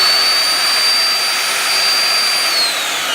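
A belt sander switched on and held running, a steady, loud broadband whine with a high tonal edge that stays constant throughout, with no voices.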